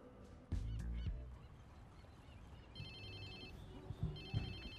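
Repeating electronic ringtone chirps from a mobile phone in the Watch Dogs 2 video game on PS4 Pro, pulsing in short bursts over low rumbling game ambience and a few thuds.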